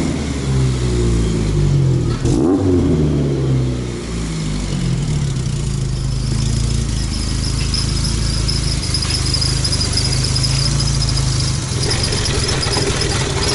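An Opel Corsa A GSI race car engine, just started after more than ten years of standing, runs loud and steady near the microphone, with a brief rev early on before settling into a continuous rumble.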